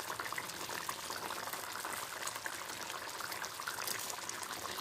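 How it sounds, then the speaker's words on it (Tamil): Citron sweet pickle syrup simmering in a pan gives a soft, continuous bubbling hiss, faint and steady from start to finish with no voices. "ஃபுல் சிம்மில் வச்சுட்டு இன்னொரு 5 நிமிஷம் கொதிக்கட்டும்"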